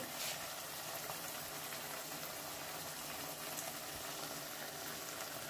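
Cumin seeds fry in cooked-down spice paste in a pan for a tilapia fish curry, giving a soft, even, continuous sizzle with a faint bubbling quality, close but quiet.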